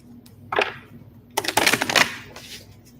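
A deck of very large energy oracle cards being shuffled, giving a quick flurry of close papery riffles and flicks after a single brief slap, with no talk.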